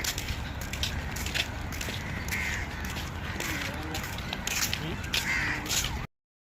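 Crows caw repeatedly in a Dubai city street, harsh calls at moderate distance repeating over a steady urban background hum.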